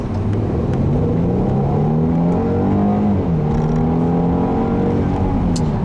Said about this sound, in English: when you put your foot down, that 3-liter bi-turbo V6 is certainly an excellent engine